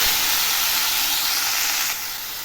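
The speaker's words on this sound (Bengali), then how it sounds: "এখন আমি শাকগুলো দিয়ে দিচ্ছি" Red amaranth greens hit hot oil that has just fried a dried chili, setting off a loud, close, steady hiss. The sizzle eases slightly after about two seconds and continues alone.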